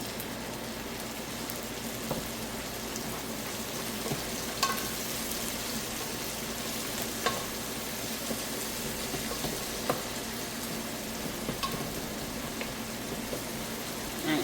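Shrimp seasoned with salt fry in a pan for shrimp fried rice, making a steady, dense sizzle with occasional small pops and clinks of stirring, close and continuous with no talk.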